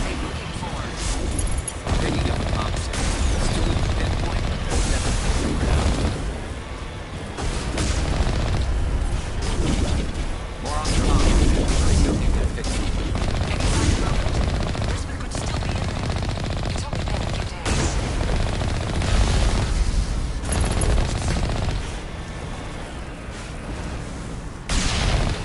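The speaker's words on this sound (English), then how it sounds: "Somebody shooting?" Dense, continuous gunfire and booms from a Mass Effect Legendary Edition firefight, rapid automatic bursts and heavy impacts layered loudly for the whole stretch, with voices talking over the combat.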